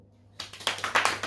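Audience applause at a literary conference breaking out suddenly after a brief quiet moment, a dense patter of clapping hands growing louder over about a second, nearby and with no talking.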